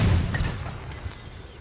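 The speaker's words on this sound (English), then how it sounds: "They're 200mm mortars." A 200mm mortar explosion in the vehicle combat game Crossout: one deep, booming blast opens the clip and rumbles away over about a second and a half, with no voices.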